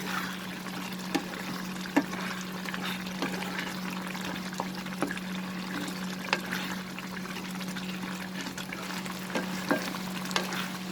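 A prawn and sponge gourd curry is stirred in a pan over high flame, giving soft bubbling and a sizzling hiss under a steady hum, broken by intermittent scraping clicks from the utensil.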